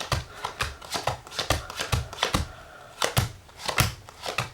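Playing cards are flipped through one at a time, making close, quick papery snaps in a steady, slightly uneven rhythm of about three per second.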